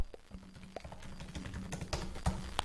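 Typing on a computer keyboard while entering a company name for a barbershop logo, with a run of light, quick key clicks in an uneven rhythm over a low background hum.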